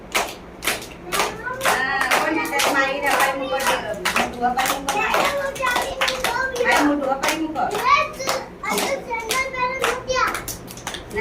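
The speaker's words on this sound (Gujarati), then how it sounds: "તાળી પાડો બધા" Small children clap their hands in an anganwadi preschool classroom. The claps are quick and uneven, mixing with children's chatter and an adult voice.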